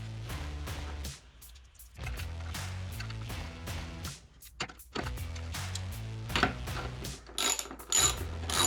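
A ratchet tightens 1/4 bolts into an oak desk top, with bursts of rapid clicking ratchet strokes separated by short pauses, close and fairly loud, and no talking.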